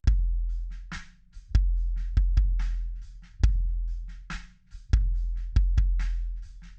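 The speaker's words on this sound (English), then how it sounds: "The kick mic sounded like this." A kick drum is recorded close through a kick mic with EQ and compression, in a drum recording. Deep, punchy thumps come in a syncopated groove, with thinner snare and cymbal bleed between them.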